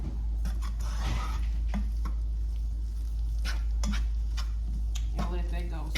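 Flour and meat are stirred in a pan for onion gravy, giving a steady sizzle under soft scraping and tapping strokes, with a voice talking at times.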